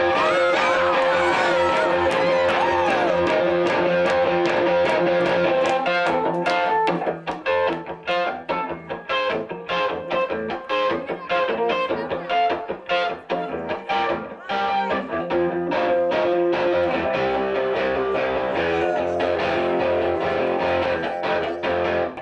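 A guitarist plays his usual solo opening at Harrods on an electric guitar with no band, beginning with sustained ringing chords and then moving into a driving, rhythmic strummed riff that stays loud and continuous.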